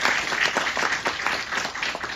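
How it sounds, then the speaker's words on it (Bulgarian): Festival audience applauding steadily, a dense wash of many hands clapping at an even level throughout with no voices standing out. "Може ли още веднъж аплодисменти за Мухи и също така и за всички организатори?"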